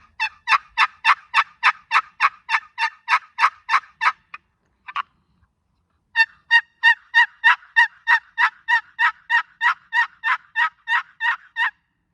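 Two long runs of raspy turkey yelps from a box call, steady and rhythmic, close up, separated by a brief pause with a couple of stray scrapes.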